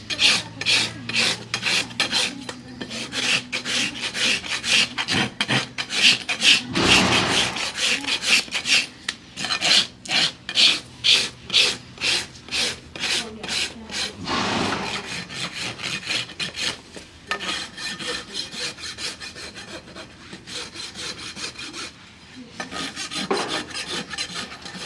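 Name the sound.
carving and rasping a horse's hoof while shoeing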